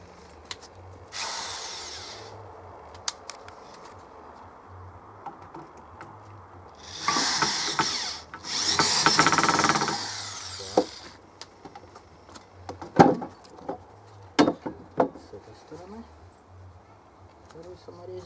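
Power screwdriver driving self-tapping screws into a wooden shovel handle, heard as three whirring bursts of a few seconds each with clicks and handling knocks between them and quiet speech.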